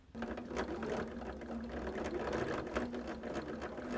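A sewing machine stitches a quilt top for a beginner's quilt, running steadily and close for the whole stretch with a rapid mechanical hum and ticking needle rhythm, with no talking.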